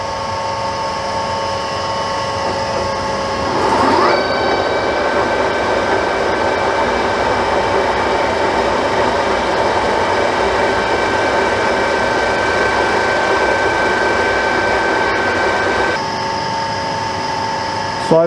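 An R5 lathe slowly boring a 100cc kart cylinder at about 140 rpm gives off a steady mechanical whir with tonal motor hum that starts a few seconds in and runs evenly until it stops near the end.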